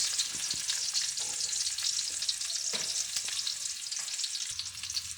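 Ginger, garlic and onion sauté for beef tongue and offal paksiw, giving a continuous close sizzle with scattered scraping of a spatula stirring the pan.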